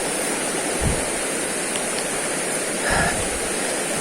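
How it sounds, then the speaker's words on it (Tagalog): Steady rushing water of a riverbank near a waterfall trail in General Nakar, Quezon, a constant broadband flow with a couple of faint footstep thumps and no talking. "dito na kami malapit sa tabing ilog magbabaybay"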